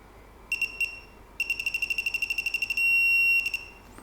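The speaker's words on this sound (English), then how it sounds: "So that's how we know when it goes red and beeps solid." Close, high-pitched electronic beeping from a SUZUME digital torque wrench: a few short beeps, a quick steady run of pulses, then a solid continuous tone as it reaches set torque before it stops.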